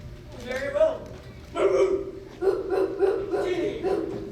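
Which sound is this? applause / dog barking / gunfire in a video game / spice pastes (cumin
dog barking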